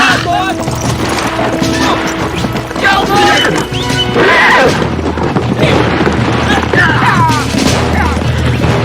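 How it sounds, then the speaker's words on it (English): Horses neigh and their hooves clatter in a galloping rush on an open Western range, loud and busy, mixed with shouting voices and crashing noise. "Get your horses!"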